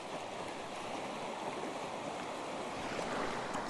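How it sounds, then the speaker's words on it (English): Ocean waves washing and crashing over coastal rock as the tide comes in at sunset, a steady broadband roar that swells slightly toward the end, close and loud with wind on the microphone and no talking. "So here comes a wave now"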